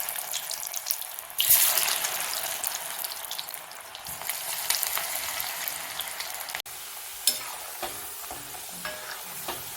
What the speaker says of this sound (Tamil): வேக வச்சிருக்கிற காயை எண்ணெயில் நல்லா பொரிச்சு எடுத்துக்கலாம்.